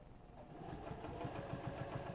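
A sewing machine stitches a second row of support seams on a business bag, a steady mechanical whir with a fast regular needle rhythm, close and moderately loud, with no talking.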